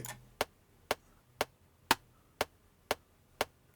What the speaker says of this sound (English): our trigger is triggered by these short pulses the hi-hat gives